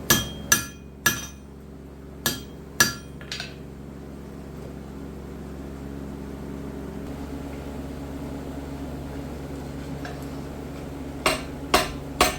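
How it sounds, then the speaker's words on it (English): A blacksmith's hammer strikes hot iron while forging a tenon for a rushlight: about six sharp, ringing blows come in quick succession at the start, a quiet stretch follows, and three more blows land near the end. "here I'm forging a tenon so I can use it to rivet onto the legs."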